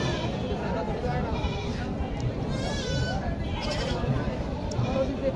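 At a crowded goat market a Black Bengal buck bleats with wavering cries over a dense babble of people talking nearby.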